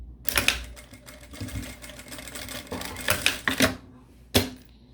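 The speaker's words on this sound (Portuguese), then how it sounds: "vou passar uma costura reta para prender aqui os 3 materiais juntos" A sewing machine runs a straight seam through fabric and a zipper layered together, with rapid mechanical stitching bursts that start and stop, punctuated by sharp clicks and handling knocks.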